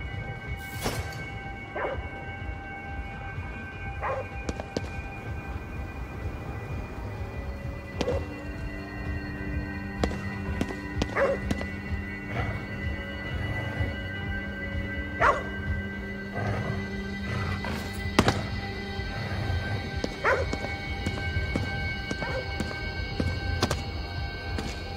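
A dog barks and yips in the video game Ghostwire: Tokyo, several sharp barks spaced out over a hum of ambient game music and tones, no speech.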